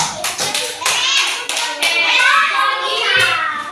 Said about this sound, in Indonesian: Tepuk tangan yang pertama itu